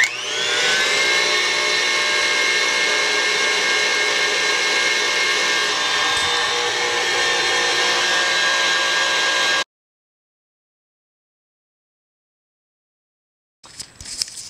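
An electric mixer whirs steadily through cookie dough for about ten seconds, a loud, even motor drone, then cuts out into silence before a brief burst of sound near the end.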